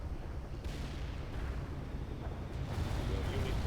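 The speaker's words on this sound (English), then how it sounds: "that's a lot of artillery coming in" Heavy artillery barrage in the World in Conflict strategy game, a continuous rumbling roar of distant and near shell impacts that swells louder toward the end, with a voice talking over it.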